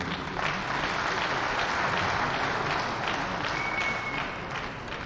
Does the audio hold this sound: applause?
yes